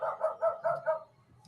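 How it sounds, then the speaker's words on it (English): A pet dog barks at a neighbouring dog, giving about five quick, evenly spaced barks close by, then fading to quiet room noise. "he's barking at next door neighbour's dog, because next door neighbour's dog's barking at him"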